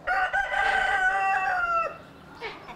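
A crossbred rooster, a cross of 18 breeds from around the world, gives one loud, close crow with a long drawn-out final note, followed by a brief softer call.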